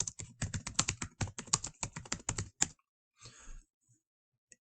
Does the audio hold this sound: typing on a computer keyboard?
yes